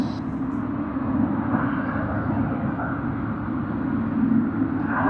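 Qantas Boeing 787 in Spirit of Hong Kong livery taxiing at Sydney Airport, a steady, fairly loud jet engine rumble and whine that holds constant throughout with no voices.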